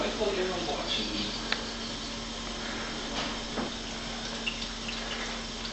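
A household faucet runs in a steady, close wash of water while a dog drinks from the stream, with a voice talking over it throughout.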